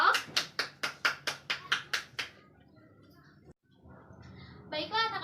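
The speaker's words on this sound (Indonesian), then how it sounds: "Beri tepuk tangan untuk semua kelompok." A classroom of children claps for all the groups, about ten sharp rhythmic claps in unison, followed by quieter room noise and children's voices.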